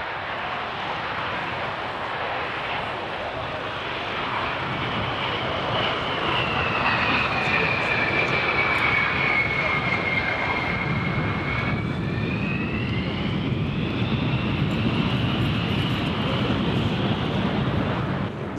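A military jet fighter roars past at an air show, a loud continuous engine rush with a whining tone sliding down and back up as it flies by, set against wind buffeting.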